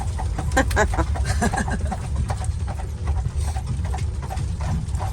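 Horse hooves clop steadily on a snowy Lancaster County, Pennsylvania road as the animal pulls an Amish buggy, a continuous close rhythm layered over constant road and wheel noise.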